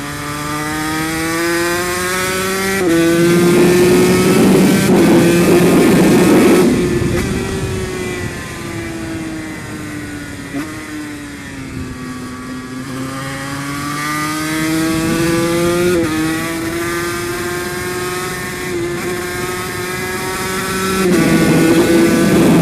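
A Yamaha TZ250 racing motorcycle engine rings out loud and close while riding, a high buzzing two-stroke note rising and falling through gear changes over a continuous run.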